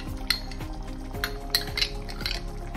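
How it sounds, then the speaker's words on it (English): Metal spoon clinking against a cooking pan while fresh cream is stirred into a mushroom and pea curry, several light, close taps and scrapes at an irregular pace. "I have to add into it cream, fresh cream."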